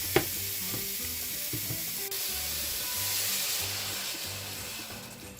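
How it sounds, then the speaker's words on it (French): Meat pieces searing in a pot as the base for harira lentil soup, a steady sizzle with a few clinks and stirring knocks, swelling slightly louder midway, no voices. "dans la marmite, je viens mettre directement les morceaux de viande donc pour les saisir"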